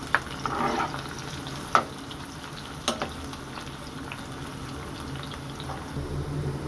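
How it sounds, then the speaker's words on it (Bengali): Chopped onion and garlic fry in oil toward brown for a red amaranth greens dish, giving a steady low sizzle and bubbling with a few sharp clinks of a stirring utensil. "পেঁয়াজটাকে এখন ভালো করে আমি তেলের মধ্যে ভেজে ব্রাউন কালার করে নেব।"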